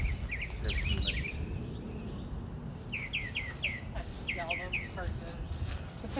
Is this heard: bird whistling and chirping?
yes